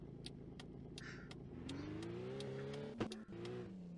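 A car's engine in the Fahrschule 3D driving school video game revs and climbs steadily in pitch as the vehicle pulls away from a light, with a brief bump near the end and no talk over it.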